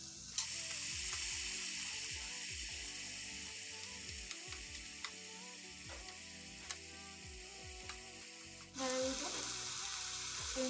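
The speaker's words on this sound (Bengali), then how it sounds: "মশলার ভিতরে সুযোগ করলাম সবজিটা ভালো করে ভেজে ভেজে নেব" Boiled cabbage frying in spices in a pan gives a loud, steady sizzle close by, broken by repeated ratcheting scrapes of a spatula, with a sudden fresh burst of hiss near the end; no talk.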